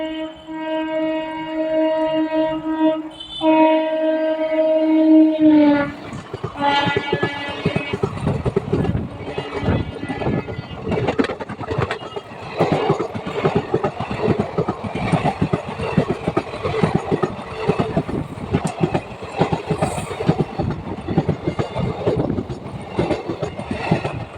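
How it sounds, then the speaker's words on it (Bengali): An express train departs a station at night, pulling out on line three: a long horn tone opens, then a loud, continuous rumble and clatter of wagons passes close by, alone without talk. "তিন নম্বর লাইন দিয়ে বেরিয়ে যাচ্ছে এক্সপ্রেস ট্রেন"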